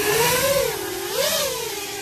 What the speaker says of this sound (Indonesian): kita praktekin sambil saya terbangin quad saya